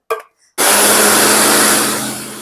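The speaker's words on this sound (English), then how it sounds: "Tin of tomato, and I'm going to blend that as well in the blender" After a brief clatter, a blender motor kicks on and whirs loudly and steadily as it blends tinned tomatoes, its pitch easing slightly near the end.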